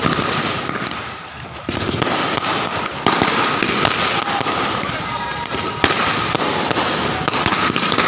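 Firecrackers burst at an outdoor birthday celebration in a continuous loud crackling barrage of rapid pops and sharp bangs, dense and close, with a few heavier blasts standing out.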